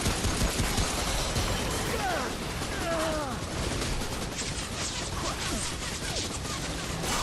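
Gunfire and turret shots from the video game Remnant: From the Ashes, a dense continuous barrage of rapid bursts and impacts mixed with game effects.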